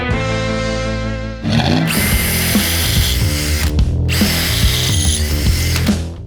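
Power drill boring holes in a metal bracket for a BMW F30 car project, loud and close, whining steadily with several short bursts and pauses as the bit bites, no talking.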